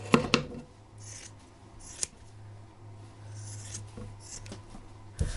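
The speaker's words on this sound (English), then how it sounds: "I'm going to cut straight over from the crotch to the outside of the leg." Scissors snip through trouser fabric as clothing is cut up for yarn, several crisp blade closes with soft rustling of cloth between them, close and fairly quiet.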